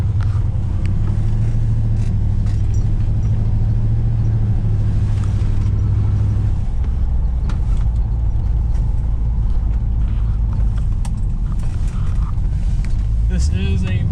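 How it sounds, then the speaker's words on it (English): A 1980 Pontiac Firebird with a small block 350 V8 and headers, giving a loud, steady low engine drone from inside the car that shifts pitch partway through as it drives. "Has a small block 350 under the hood. Some headers. Has actually a pretty nice V8 tone to it."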